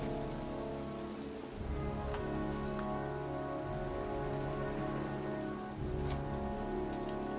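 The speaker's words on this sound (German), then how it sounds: "Stattdessen stehe ich bei strömendem Regen auf einem Friedhof" Heavy, steady rain falling at a cemetery in the Heavy Rain video game, a dense constant patter on surfaces with a few brief sharper drips, no voices.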